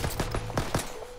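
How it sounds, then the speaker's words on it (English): Rapid gunfire in the video game Warzone Pacific, a quick burst of several sharp shots in close succession, loud and near. "Oh, I'm already getting shot."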